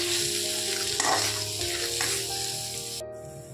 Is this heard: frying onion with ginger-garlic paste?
yes